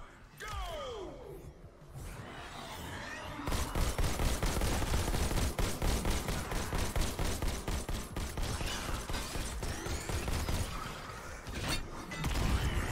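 Rapid automatic gunfire in the VR shooter Robo Recall, a dense sustained burst of repeated shots dominating most of the span with mechanical clanks, after a quieter opening with brief talk.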